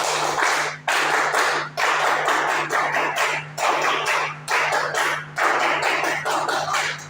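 A group of participants claps a patterned rhythm together for an ice-breaking game in a class session, bursts of hand claps in repeated phrases separated by short pauses, fairly loud and close, with a steady low hum underneath.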